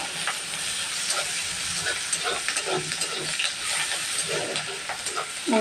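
Onions frying in a pan for a mustard gravy Malabar spinach curry, a soft continuous sizzle and hiss with light stirring scrapes, close and fairly quiet.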